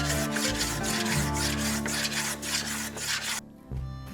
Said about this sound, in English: I'm going to grab my chisel and I'm going to clean it up and make it look really nice